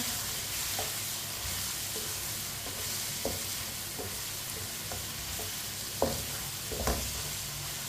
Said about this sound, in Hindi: आधी चमची साबुत जीरा, आधी चमची साबुत धनिया। मसालों को 1 मिनट के लिए पका लेंगे।